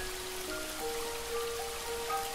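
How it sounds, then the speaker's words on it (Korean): Steady rain falls throughout a forest clearing, a soft, continuous, even hiss of drops on leaves and ground with no voices. "앉아있는 그 나무 아래를 제외한 모든 곳에 비가 내리는 것을 그저 바라봅니다."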